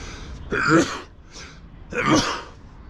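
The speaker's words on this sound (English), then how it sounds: "As my sneezing is telling you." Two sharp sneezes a little over a second apart, close and fairly loud, from someone sitting on a dusty, hazy rooftop overlooking the pyramids at Giza, with no talk between them.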